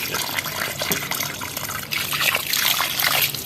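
Tap water runs and splashes steadily at close range as aloe vera leaves are rinsed under it, with a fuller gush in the second half and no talk.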